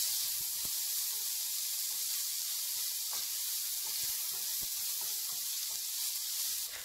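Onions sauté in oil tempered with mustard seeds, urad dal, green chilli and curry leaves, giving a steady, even hiss with a few faint pops and ticks, with no talking.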